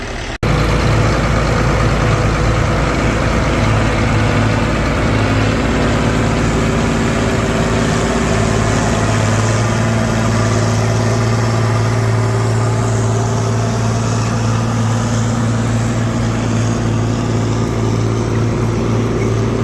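A tractor running duals pulls a 5/16 plow through a field of standing cover crop, its engine holding a steady, loud, continuous drone with a low rumble throughout and no talking.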